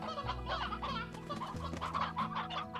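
Chickens cluck in the video game Slime Rancher, with steady overlapping clucks and fowl chatter over a low background hum and no talk.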